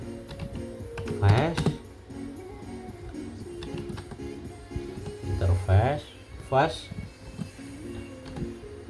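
Keys clatter on a computer keyboard while a network interface setting is typed in, with irregular bursts of taps under a man's nearby speech.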